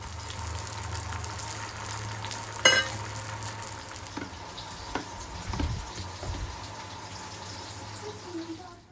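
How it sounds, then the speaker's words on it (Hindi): Pointed gourd (palwal) slices frying in a pan in a home kitchen: a steady, dense oil sizzle with a sharp utensil clink and a few stirring scrapes partway through. "सो पॉटल भाजा यहाँ पर बन चुका है, यानी कि पलवर यहाँ पर फ्राई हो चुके हैं"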